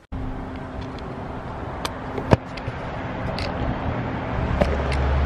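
Car driving and pulling up at a barbershop, a low steady engine and road rumble from inside the vehicle with a few small knocks and clicks, growing slightly louder toward the end, no talk.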